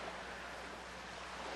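Ocean waves break and wash onto a shore as a steady, fairly loud roar of surf with foamy hiss, continuous and unbroken throughout with no voices.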